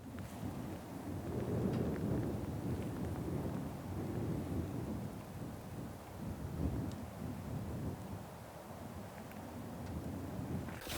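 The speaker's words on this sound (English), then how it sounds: "It looks like I got a nice little rain storm headed my direction, so hopefully I don't get rained on too bad." Approaching rain storm on open prairie country, a low rumbling thunder-like roar with steady wind buffeting the microphone and a wash of rain noise, continuous and fairly distant.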